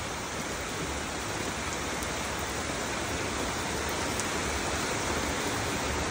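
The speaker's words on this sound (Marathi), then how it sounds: "आमच्या कल्याणमध्ये खूप पाऊस चालू आहे" Heavy monsoon rain pours down in Kalyan, a steady, dense, loud hiss of drops hitting surfaces that stays constant throughout with no voices.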